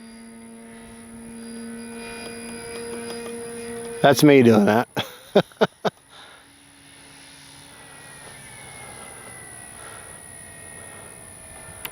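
A large 3X Flex RV8 60E radio-controlled model airplane flies with a steady engine drone, broken midway by a few sharp loud bursts, while someone talks over it.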